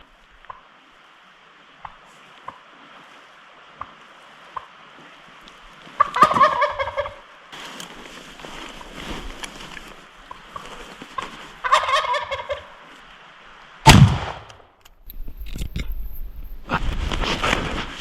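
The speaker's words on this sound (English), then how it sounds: "I heard gobbles" Wild turkey gobbling in spring woods near Bend, Oregon: several bursts of rattling gobbles come at intervals, fairly loud and close, with quiet gaps and a few sharp knocks between them.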